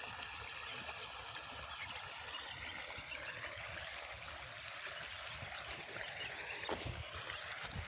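Irrigation water runs steadily into a summer sorghum field, a faint continuous rushing and trickling flow at a low, even level with no voices.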